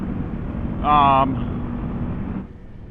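A 2026 Kawasaki Ninja 500 motorcycle with an aftermarket Leo Vince exhaust drones low and steady beneath a person's talking, then drops away near the end.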